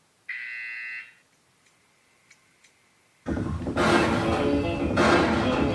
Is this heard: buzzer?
yes